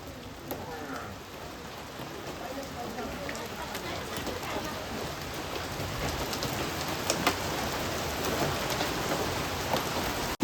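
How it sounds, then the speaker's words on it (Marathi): Rain and hail falling outside a house, a dense steady patter with sharper scattered ticks of hailstones, growing slightly louder over time, heard from indoors. "बाहेर पाऊस चालू आहे."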